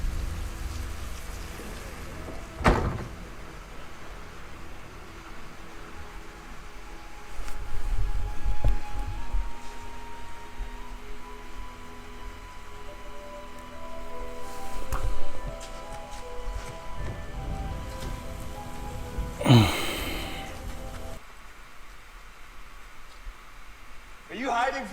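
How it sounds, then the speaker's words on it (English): Steady rain falls throughout a film scene, a soft continuous patter with a few louder thuds and movements, and a voice speaking briefly over it. "It's still raining."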